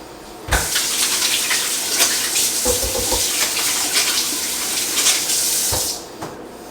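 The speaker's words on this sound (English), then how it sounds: "I can wash my hands real fast." Kitchen tap running steadily while hands are washed under it, a close, loud rush of water with small splashes and clunks, ending when the tap is shut off.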